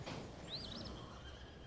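A horse whinnies once in a thin rising and falling call over a soft steady background, fairly faint and distant, with no talking.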